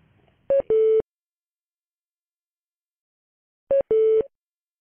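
A conference call ends with two identical bursts of telephone tones about three seconds apart, each a short beep followed at once by a longer steady tone, loud and clean against silence.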